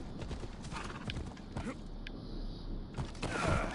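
Horse hooves clip-clop steadily in Assassin's Creed Odyssey, a rhythmic trot under a busy game soundscape with creaks and a brief whinny-like rise near the end.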